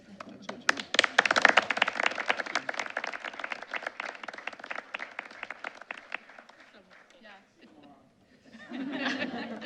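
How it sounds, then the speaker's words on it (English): At a school board meeting, a crowd claps steadily for several seconds with some cheering and chatter mixed in. The clapping then dies down, and voices follow. "Could you stand up and give him a nice round of applause?"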